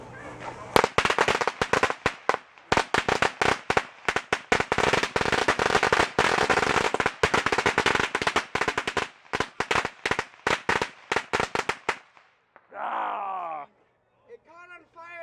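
A string of firecrackers goes off during a Fourth of July fireworks mishap, a dense, loud, irregular burst of sharp cracks and pops for about twelve seconds, followed by a person shouting and talking once the bangs stop.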